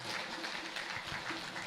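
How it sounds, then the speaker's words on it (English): An audience at a town hall on peace and national cohesion claps together, a soft continuous patter of many hands heard faint and distant. "Now, please join hands and clap and tell thank you to all the partners that will make this happen."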